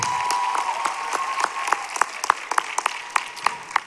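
A school pageant crowd at Mr. SBHS applauds its contestants, the clapping starting full and thinning out into sharper, scattered individual claps toward the end, with no speech.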